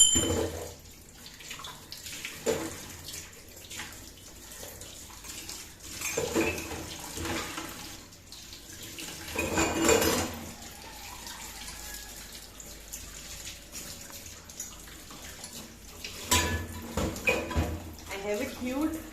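Brass puja items and idols washed in a sink under running water, with intermittent clinks of metal pieces and splashing in uneven bursts amid steady flow, while someone talks over it.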